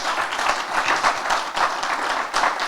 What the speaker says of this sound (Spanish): Le damos un aplauso fuerte al pastor Juan Varela.